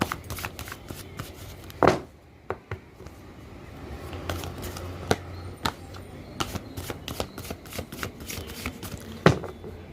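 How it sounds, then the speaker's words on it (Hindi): Tarot cards shuffled by hand, a close run of crisp riffles and slaps with sharp snaps, repeating irregularly for the whole stretch without talk. "सबसे पहले मैं कार्ड को मिक्स करती हूँ अच्छी तरह से"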